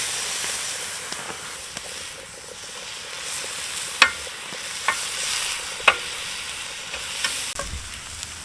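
Breakfast sausage fries in oil in a pan while camping, a steady close sizzle and hiss with a few sharp pops and occasional stirring scrapes.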